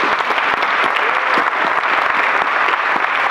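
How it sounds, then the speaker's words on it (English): Audience applause at a TEDx New Albany talk, a dense, steady wash of many hands clapping at close range for the full length without pause. "clap it up for them as well"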